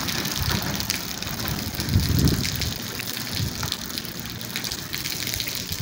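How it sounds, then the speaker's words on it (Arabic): Heavy rain pours in Oulmes, a dense steady hiss of water with a brief louder gush, continuous and close with no talking. "والله الا الشتا واش من الشتا"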